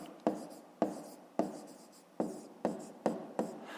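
Pen writing on paper during a fifth-grade maths exercise, a series of short scratchy strokes each starting with a tap, about seven in a steady rhythm, close and quiet.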